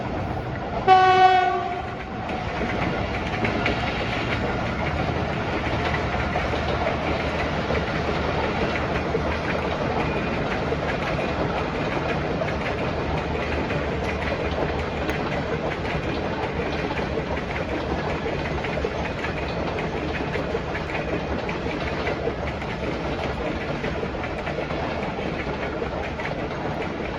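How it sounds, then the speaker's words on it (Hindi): A train passes close by, opening with a loud horn blast and then a long, steady rumble and clatter of rolling cars that holds evenly to the end. "ट्रेन आ रही, ट्रेन गुजर जाए दोस्तों ज़रा"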